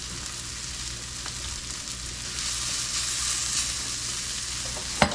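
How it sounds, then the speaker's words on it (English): A butterflied venison backstrap steak from a whitetail deer sizzles steadily as it sautés in a pan. The frying hiss stays continuous and close, with a brief clink near the end and no talking. "Give this a little bit longer to saute"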